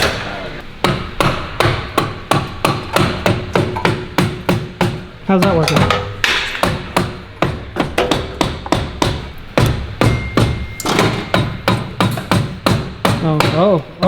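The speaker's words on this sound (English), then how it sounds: "just tap it with a rubber mallet" A rubber mallet tapping repeatedly on a car part during work on a Charger, steady loud thuds in quick rhythmic runs with short pauses, one brief voice speaking in between.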